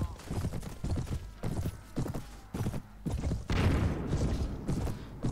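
Hooves of horses galloping in the Mount & Blade video game, a brisk, uneven clatter of hoofbeats heard close, with people talking excitedly over them.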